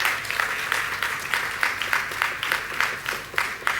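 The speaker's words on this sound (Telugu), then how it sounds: "చప్పట్లు కొట్టాలి అక్కడ" A church congregation applauds during a sermon, a steady burst of hand claps with an uneven, rolling rhythm, moderately loud and close, without speech over it.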